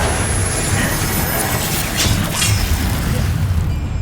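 Explosive blast from the Bombarda spell in the video game Hogwarts Legacy, a loud, broadband boom with a rumbling low end, sustained over dense game background noise with swelling bursts midway.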